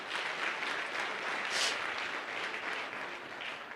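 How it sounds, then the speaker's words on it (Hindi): An audience in a hall applauds a senior team leader at a motivational talk, a steady, even wash of many hands clapping at moderate distance, fairly soft and continuous without pauses. "इनके लिए एक बार ताली हो जाए।"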